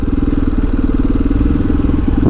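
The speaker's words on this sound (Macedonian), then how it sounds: "Ова е воено возило." A military vehicle's engine runs steadily on a street in Alanya, a loud, close, low throbbing rumble with an even pulsing beat that holds for the whole stretch.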